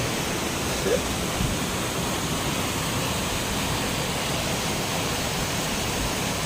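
Steady, dense roar of rushing water from a series of three waterfalls in a row, a constant broadband wash that stays even throughout with no clear voices.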